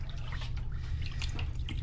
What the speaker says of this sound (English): just submerge in the water